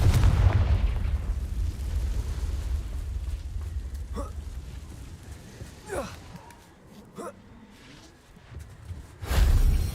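Combat spells and a Confringo fire blast in the Hogwarts Legacy video game, with a rumbling low bed and several sharp swooshing bursts at intervals, ending in a loud blast; a voice calls out spell names.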